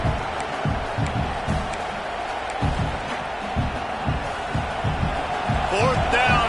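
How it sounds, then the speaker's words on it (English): A football stadium crowd at an ASU game keeps up a steady roar of cheering to spur on the defense, heard as a broad wash of noise under continuous play-by-play commentary. "this crowd trying to help this defense rise to the occasion"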